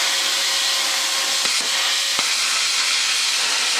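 A CUT50 plasma cutter cuts metal at about 30 amps with a steady, loud, broadband hiss like rushing air, punctuated by a couple of brief sharp pops, close and continuous.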